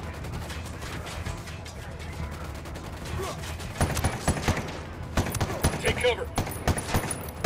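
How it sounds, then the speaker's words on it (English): Rapid bursts of automatic gunfire from a Ghost Recon Wildlands firefight crackle loudly and repeatedly through the second half, with someone speaking briefly over the shooting. "I'm shooting."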